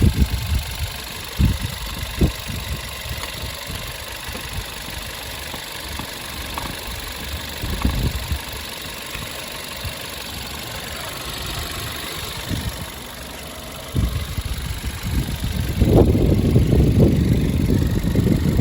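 Engine of a 2013 Volkswagen Golf Plus with automatic gearbox idling steadily at close range, with a few knocks and handling noises and a louder rise near the end.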